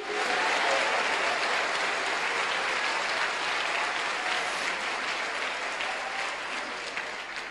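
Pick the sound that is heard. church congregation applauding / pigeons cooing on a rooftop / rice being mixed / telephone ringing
church congregation applauding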